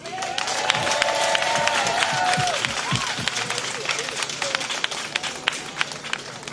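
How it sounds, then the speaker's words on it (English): An audience at a live ceremony applauds an honoree with a steady, dense wash of clapping and some cheering, while a voice talks over the crowd. "make sure we give them a strong round of applause"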